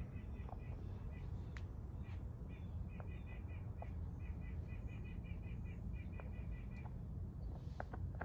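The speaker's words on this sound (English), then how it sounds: "I don't know what kind of bird that is." Small bird calling outdoors in repeated short chirping bursts, fairly clear above a constant low rumble of wind or background noise during flintknapping of root beer chert.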